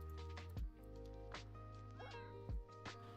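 A cat's purring, sleepy vocal sounds, used as the happy ghast noise in Minecraft, come through as soft tonal whines and short breathy coos at a gentle, quiet level over a steady hum.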